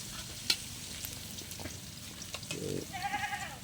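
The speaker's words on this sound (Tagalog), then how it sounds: "Gigisan na ni Bugard yung para sa pansit" Ingredients for pancit sautéing in a pan, a low continuous frying hiss with scattered clinks and stirring scrapes, heard against faint background noise and a brief bleating-like sound near the end.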